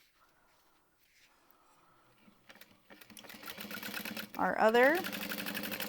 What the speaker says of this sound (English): And top stitch along either side.